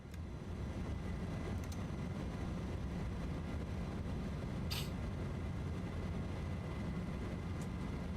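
An MD-11 airliner takes off in a flight simulator with a steady, low engine roar that stays constant throughout. A single faint click breaks in partway, and no one speaks.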